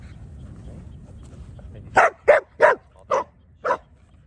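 A dog in training barks five times in a quick, evenly spaced series, sharp and close, after a quiet stretch of low background noise.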